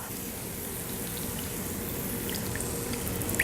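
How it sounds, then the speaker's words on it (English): Vegetable broth poured into a cooking pan, a steady continuous wash of liquid running for a few seconds with light splashing near the end. "So we'll add some veggie broth."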